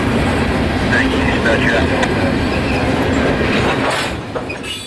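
A Canpotex potash freight train rolls slowly down a bypass on CSX rails, with a continuous rumble, rhythmic wheel clatter and faint squealing, heard close and steady before easing off near the end as it comes to a stop.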